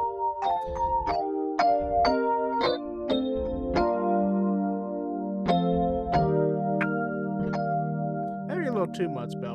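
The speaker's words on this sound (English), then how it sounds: "Too much bell for some people" A bell-like electric piano tone from the AcousticSamples VTines plugin, played as a series of chiming notes and chords with sharp metallic attacks and sustained harmonic decays, clear and up close.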